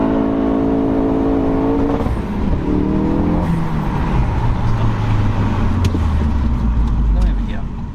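Ford RS car revving hard and accelerating on a winding mountain road, engine note rising through the gears then dropping into a lower steady drone, loud and close with some talk in the cabin.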